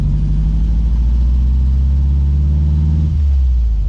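A Volkswagen Golf GTI fitted with a Volkswagen Beetle engine drives along, a loud, steady low engine drone that shifts pitch slightly near the end, with no voices.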